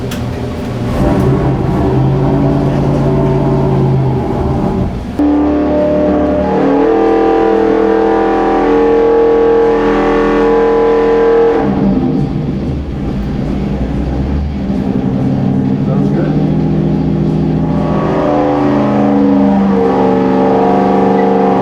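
An upgraded car engine on a power test roars through repeated loud revving pulls, pitch climbing and dropping in long sweeps, close and dominant.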